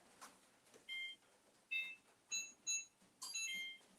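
Electronic oven timer beeping in a home kitchen while banana nut bread bakes: several short bursts of high, steady tones in separate groups, close and clear against a quiet room.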